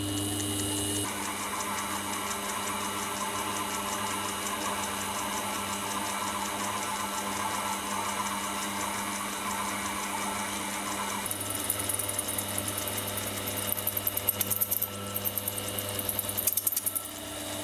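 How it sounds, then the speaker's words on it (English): A drill bores a hole into a steel milling machine spindle, a steady mechanical whir with a constant motor hum, joined near the end by irregular chattering cutting noises. "I'll now flip it and then drill the hole on the other side"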